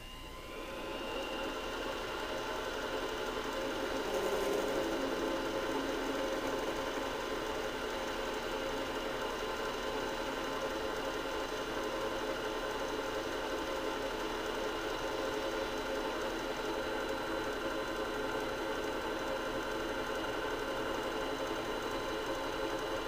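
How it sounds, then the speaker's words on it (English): A drill motor runs at a steady, continuous drone as it bores about a quarter inch into the old firing pin of a Francotte Martini rifle, holding an even level throughout with no talking. "we're going to drill probably about 1/4 of an inch to a little bit more into the old firing pin."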